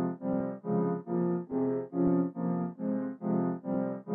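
A halftimed piano patch called The Giant, run through halftime, EQ and shaping effects, plays a slow sequence of about ten sustained, pulsing chords with a warm, muffled tone, alone with no voices.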